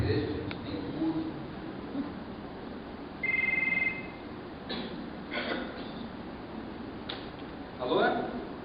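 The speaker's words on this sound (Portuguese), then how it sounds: "Vou ligar pro Neto que faz tempo que eu nem vejo ele na igreja" Telephone ringback heard as a call is placed during a church theatre skit: one brief electronic two-tone ring, muffled and mid-level, amid scattered room noise and faint voices.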